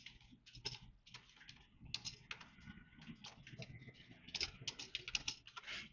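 Computer keyboard keys tapped in quick, uneven bursts, close and fairly quiet, with short pauses between clusters of clicks.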